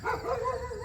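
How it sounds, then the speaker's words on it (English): A dog barks and yips from the back of a 1973 Volkswagen Westfalia bus, a short run of excited, somewhat muffled barks close by. "That's my dog in back, Louie, that you hear"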